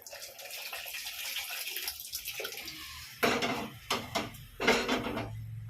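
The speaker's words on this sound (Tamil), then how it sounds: "இப்போ இந்த புளி தண்ணி கொஞ்சம் ஊற்றிடலாம்" Tamarind water is poured into a simmering drumstick and raw mango sambar, a splashing pour in short bursts over a soft, steady background.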